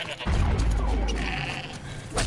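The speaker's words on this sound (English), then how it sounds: "Have you ever seen goat?" A goat bleats in the Horizon Zero Dawn video game, a short wavering cry rising over a busy game soundscape with a low rumble underneath.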